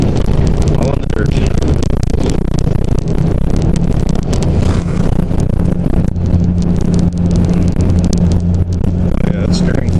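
A Jeep tears through high-speed turns on a dirt pit, its engine roaring close and loud with rough rumbling and heavy wind buffeting the microphone the whole time.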